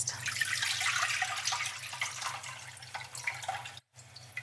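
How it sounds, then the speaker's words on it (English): Hot water from boiled potatoes pours out of a pot into a sink, a loud splashing rush that tapers off with a short break near the end, alone without talk. "I'm just gonna drain out the water from our potatoes because we're gonna add that next."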